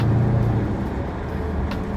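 A deep, rumbling Dodge Challenger R/T engine idles close by, a low steady growl with slight pulsing throughout, no supercharger whine.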